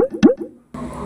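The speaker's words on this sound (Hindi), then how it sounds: "ये पानी वाला हुक है" Water drip sample used as a hook in a Bhojpuri music mix: a few quick liquid plops in a short run, then a sustained tonal layer enters.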